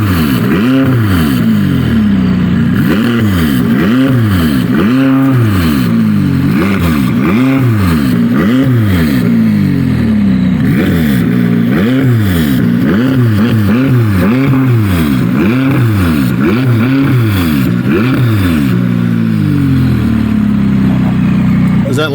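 A McLaren 570S fitted with a new aftermarket exhaust, heard outdoors as the engine is blipped again and again in a fast, regular rhythm of loud, rising and falling revs, close and dominant throughout.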